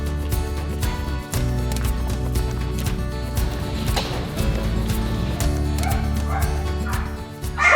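Puppies yip and whimper over a steady low hum, small high-pitched cries coming in irregular bursts throughout.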